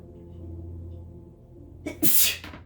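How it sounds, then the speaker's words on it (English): One loud, close human sneeze, with a short sharp intake of breath before the burst, after a stretch of low, quiet room hum. "I'm going to sneeze."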